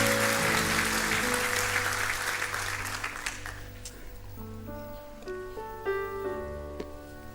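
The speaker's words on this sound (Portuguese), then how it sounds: "Dê o melhor aplauso que você pode dar ao Senhor" Applause from a church congregation at an evening service fills the room at first, a dense wash of clapping that thins and fades halfway through as sustained organ or keyboard chords carry on alone beneath it.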